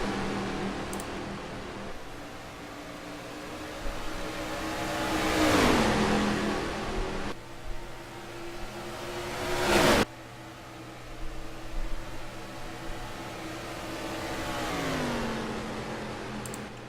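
NASCAR stock cars in a racing video game roar into turn 1, engines rising and falling as cars pass close by in several swelling waves, with a sharp whoosh as one car sweeps past, and no talking.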